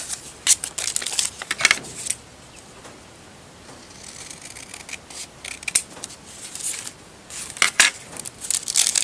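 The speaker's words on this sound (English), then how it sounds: "So we fold it over here and cut it on this line." Scissors snip through folded paper for a journal's envelope belly-band signature cover, with a few sharp crisp cuts and rustling handling in between, close and fairly quiet, with no voices.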